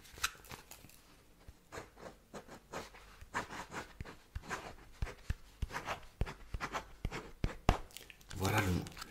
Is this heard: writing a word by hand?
yes